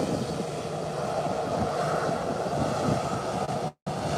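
Steady broadband roar of a jet airliner taking off from Howard Hamilton International Airport, a constant loud rumble and hiss heard from a distance without voices, cut by a brief dropout near the end.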